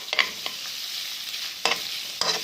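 Minced meat kofta frying with onion in a pan, a soft continuous hiss of sizzling broken by a few louder scraping stirs near the start and end.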